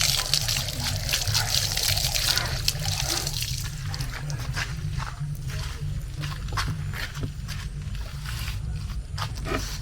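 Food is washed by hand in water, with splashing, trickling and pouring sounds over a steady low hum, close and continuous.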